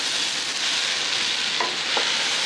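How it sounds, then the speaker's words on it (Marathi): Rice being stir-fried with vegetables in a pan for spicy Maharashtrian masale bhat, a dense continuous sizzle with a couple of faint stirring knocks, close and steady with no talking. "भाज्यांमध्ये तांदूळ घातल्यानंतर थोडंसं चांगलं परतून द्यायचे तांदूळ"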